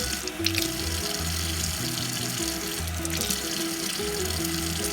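Tap water runs steadily into a sink while hard-boiled eggs are peeled by hand, a close, continuous splashing stream with no talk over it.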